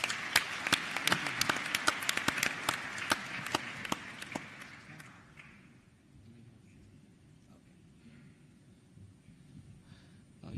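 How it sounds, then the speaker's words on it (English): An audience at the Youth Connekt Africa Summit 2017 gives a speaker a round of applause. Crisp, fairly close claps fill the first five seconds, then thin out and fade into quiet room tone. "Let's give him a round of applause."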